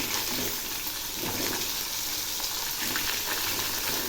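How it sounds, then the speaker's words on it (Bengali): Catfish pieces frying in hot oil in a pan, a dense, steady close sizzle with a hissing, watery crackle throughout. "মাছগুলো আমি আবার উল্টে দিচ্ছি, একদম কড়া করে ভেজে নেব"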